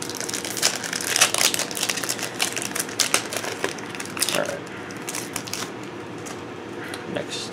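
Foil wrapper of a Yu-Gi-Oh Judgment of the Light Deluxe Edition booster pack crinkles and tears near at hand, a busy run of dense rustling and crackling that thins out toward the end, with brief talk mixed in.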